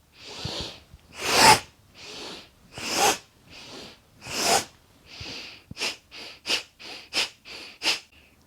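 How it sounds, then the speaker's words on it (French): Loud, forceful breaths in and out through the nose during a kundalini yoga exercise, slow and spaced at first, then quicker sharp huffs in a steady rhythm, close up. "on entend vraiment la respiration"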